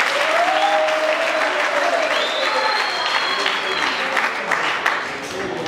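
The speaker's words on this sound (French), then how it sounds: "il faut l'applaudir." Audience at a youth gathering in Congo applauding, steady sustained clapping throughout with voices and faint tonal sounds mixed in.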